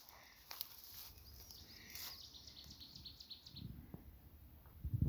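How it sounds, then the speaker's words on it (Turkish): Small birds chirp and twitter faintly in the open air of Kastamonu countryside among thyme and wildflowers, a thin scatter of high calls over quiet outdoor ambience with a few soft rustles. "Kuşlar şarkı söylüyor."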